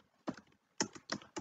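Four quick, separate bursts of keys clatter on a computer keyboard, close and crisp, with short pauses between them.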